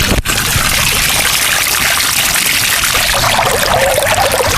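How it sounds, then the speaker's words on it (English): A small two-tier birdbath-style rock fountain with a bubbling top and water overflowing down below gives a steady, close, fairly loud wash of splashing and trickling that runs unbroken. "I hear the bubbling effect that's going on up here, and then I hear this overflow effect down here."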